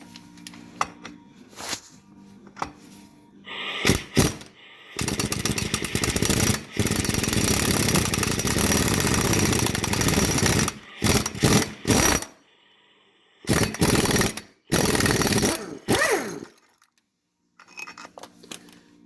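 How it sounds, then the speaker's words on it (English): An impact wrench hammers close and loud on a bolt of a Polaris Sportsman ATV, firing in repeated bursts of rapid rattling, including one long run of several seconds, separated by short pauses and clicks. "I'm going to take this bolt out. I don't like using impacts on these things, but I'm just going to take it easy."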